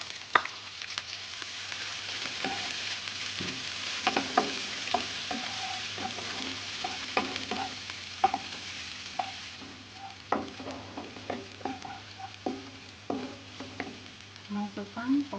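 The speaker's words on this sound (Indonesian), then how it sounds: "Sekarang saya akan masukkan bawang merah, bawang putih dan juga cabai. Kemudian akan saya tumis sampai" Shallots, garlic and chili stir-frying in a pan for sautéed luffa, a steady sizzle under repeated scraping of a spatula against the pan, close up and continuous.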